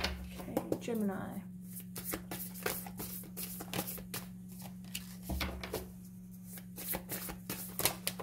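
Cards are riffled and shuffled by hand, a rapid series of crisp flicks and slaps, close up, with a low steady hum underneath.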